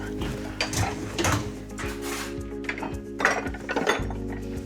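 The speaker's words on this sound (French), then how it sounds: "Tu mets les couverts" Cutlery is put away in a kitchen drawer, with repeated metallic clinks and rattles of silverware and a drawer shifting, close by over a steady low hum.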